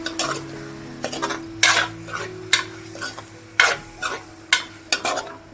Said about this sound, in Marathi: मी आता हे चांगलं मसाला परतून घ्यायचे